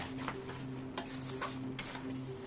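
Homemade tomato sauce with sugar added simmers and thickens while a spoon scrapes and stirs through it, producing soft bubbling and a few distinct scraping taps over a low steady background hum, faint and close.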